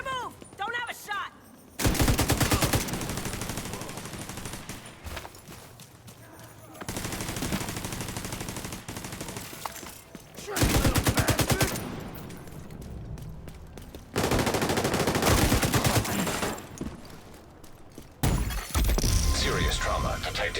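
Sniper rifle gunfire in The Division 2: Warlords of New York, loud sharp shots and bursts arriving in several blocks, with breaking impacts and game chatter between them.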